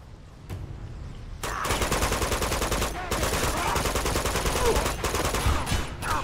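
Sustained gunfire from a firefight in the video game Uncharted 2, starting with a single shot, then dense rapid bursts that keep going loud and close for several seconds.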